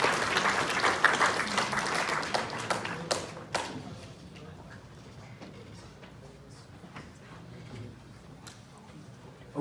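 An audience in a university lecture room claps after a student's midpoint project presentation, a burst of applause that is loudest at first, thins into a few scattered claps and fades to quiet room noise.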